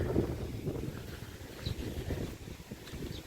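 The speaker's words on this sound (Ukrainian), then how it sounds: "Вітер, правда, сильний." Steady roaring gusts of strong wind buffet the microphone, a continuous low rumble with no voices.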